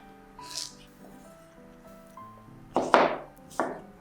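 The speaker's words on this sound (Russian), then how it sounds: "нарезаем полукольцами 1 огурец" A handful of crisp knife chops slicing a cucumber into half-rings on a cutting board, a few in quick succession near the end, with soft music playing underneath.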